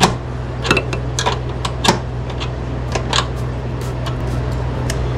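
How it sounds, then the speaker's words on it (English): Quick metallic clicks and taps of a small crescent wrench snugging bolts a half turn at a time while fitting an off-road aux switch kit, close and sharp over a constant low hum. "I'm just gonna need a little crescent wrench to get these daddies in here."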